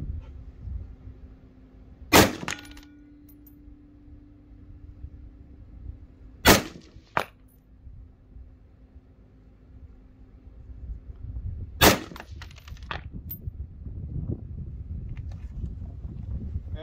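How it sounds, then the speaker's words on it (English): AR rifle fired from a Caldwell Rock BR bench rest: three sharp, loud single shots spaced several seconds apart, each with a short echo, against quiet outdoor background and no talking. "We'll go ahead and fire a couple rounds."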